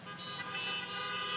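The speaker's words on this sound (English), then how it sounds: "honk your horn." Several car horns honk together in a church parking lot during an outdoor service, a faint, sustained chorus of overlapping tones heard from a distance.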